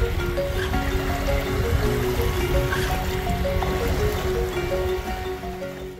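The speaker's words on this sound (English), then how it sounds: "This is a river, El Rio de la Plata." Water of the Río de la Plata in Uruguay laps and trickles gently in a steady, moderate wash with no one speaking, while a faint tonal hum runs underneath.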